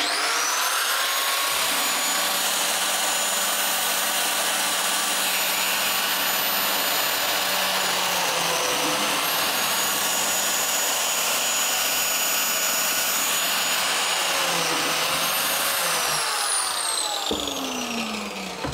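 Biscuit joiner cutting a slot in a wooden board, a steady loud high-pitched whine from the running motor that holds for the whole span and dips briefly near the end.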